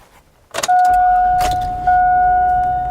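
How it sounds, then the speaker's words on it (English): A 1999 to 2007 Chevrolet Silverado engine cranks for a brief moment after an oxygen sensor replacement, then catches and settles into a loud, steady idle hum up close. "Time to start her up and see if she runs."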